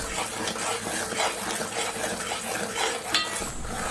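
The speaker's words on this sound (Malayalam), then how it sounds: "ഇനി ഇതിനെ നന്നായിട്ടൊന്ന് ഇളക്കി യോജിപ്പിച്ചെടുക്കാം" Jackfruit mixture with ground dry ginger and cardamom being stirred in a pan as it thickens, a steady scraping and shuffling of the spoon running the whole time at close range, with faint clinks and no voices.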